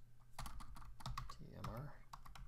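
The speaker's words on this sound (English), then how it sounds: "You can type in the name" Quick clatter of keystrokes on a computer keyboard while searching the Arduino library manager, close and fairly quiet, with a voice talking over the typing.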